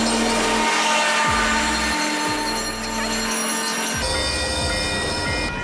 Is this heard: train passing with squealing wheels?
yes